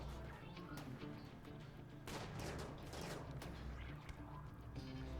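RimWorld colonists fire on raiders busy at a soul turret, with a dense, quiet fusillade of crackling shots and impacts over a low steady rumble and faint tones, intensifying in the second half.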